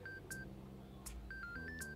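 A mobile phone rings with a faint, repeating electronic melody of short high beeps in a quiet room, with no one speaking.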